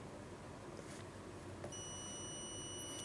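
A digital multimeter's continuity test gives a faint, steady high-pitched beep that starts partway through and holds against a quiet background.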